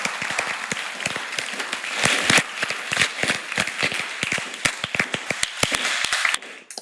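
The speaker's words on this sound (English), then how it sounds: "let's give her a round of applause to appreciate it" Audience applause after a keynote talk at a university innovation day, with loud, distinct individual claps rising to a fuller burst midway and cutting off near the end.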